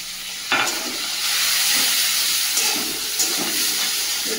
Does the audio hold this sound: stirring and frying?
yes